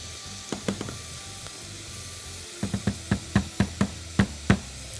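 A spoon stirs spinach and chicken cream soup in a pan, seasoned with salt, pepper, spices and nutmeg, giving a series of close, sharp scraping knocks, a few early and then a quicker run of about nine.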